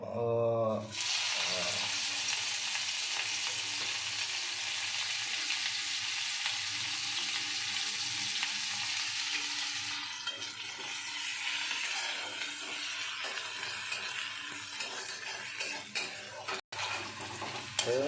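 Chopped onion, tomato and ginger-garlic paste hit hot oil for a Bahal fish curry, giving a loud, continuous close sizzle with occasional spoon scrapes against the pan.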